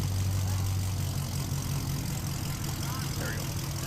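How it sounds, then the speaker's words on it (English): A car running with no muffler gives off a steady, low, rumbling engine drone close by, with a voice heard over it. "got somebody with no muffler right here"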